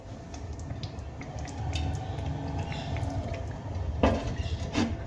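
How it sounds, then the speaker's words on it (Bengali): A lid set down over a pan of fish curry cooked in mustard paste and mustard oil, giving a couple of sharp metallic clanks near the end over a steady low kitchen background. "এবার আমি গ্যাসের ফ্লেম অফ করে দিয়ে একটা ঢাকনা দিয়ে ঢেকে রেখে দেব।"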